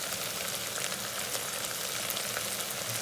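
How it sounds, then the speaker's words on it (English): Cut potatoes fry in oil with turmeric and spices inside an Instant Pot, giving a steady close hiss and crackle of sizzling that stays constant, with no voices. "We don't need to put the lid anymore. We just fry."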